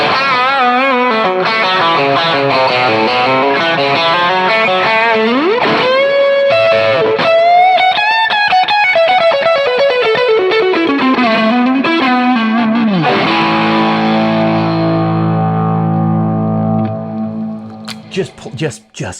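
A distorted electric guitar lead tone with chorus and echo plays sustained, singing notes and bends at a worship-style practice. Loud and up close, it rings out into a long decaying tail, with no talking over it.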